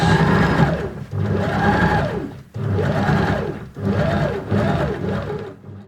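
A sewing machine stitches a V-shaped neck band on nurses' scrubs, running in several loud, steady bursts of motor whir with brief pauses between them.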